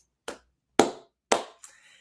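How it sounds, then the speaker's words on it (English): Slow clap of single, separate hand claps, three sharp evenly spaced ones followed by a softer fourth, each ringing briefly into silence with no talking. "Slow clap for us"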